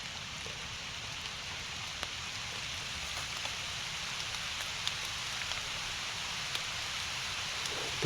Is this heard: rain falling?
yes